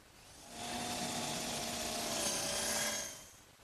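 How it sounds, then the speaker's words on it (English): A power drill whirs steadily for about two and a half seconds, rising and then fading out, with a rough grinding edge as it bores a screw hole into wood. "The first thing I want to do is drill a hole for this screw right here."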